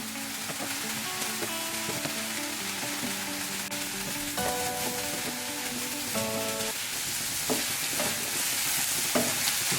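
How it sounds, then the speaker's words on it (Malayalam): Onions sautéing in a pan for an egg roast give a steady sizzle with occasional stirring scrapes, while tonal background music plays throughout. "പക്ഷേ ഈ സവാളയൊന്ന് വഴറ്റിയെടുക്കാൻ കുറച്ച് സമയം എടുക്കുന്നു മാത്രം."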